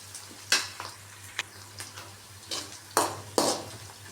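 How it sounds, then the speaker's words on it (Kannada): Onion, garlic and curry leaves fry in a pan for drumstick sambar, with a constant close sizzle broken by several sharp scraping clanks of a ladle stirring against the metal, and no voices. "ಇದು ಚೆನ್ನಾಗಿ ಫ್ರೈ ಮಾಡ್ಕೋಬೇಕು"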